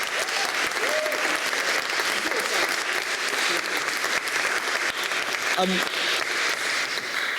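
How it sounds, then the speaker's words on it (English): A room of listeners at a Cambridge Union debate breaks into steady, dense clapping that holds evenly throughout, with a few faint voices audible beneath it. "So can we have a round of applause for Sammy too?"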